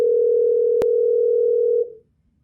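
A steady electronic telephone tone sounds when calling a cell phone, loud and continuous for about two seconds before stopping abruptly.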